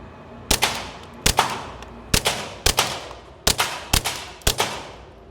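Suppressed Glock 44 pistol with a Huxwrx 22 Ti suppressor fired at a range: seven sharp, muffled cracks in an uneven rhythm, each trailed by a short echo.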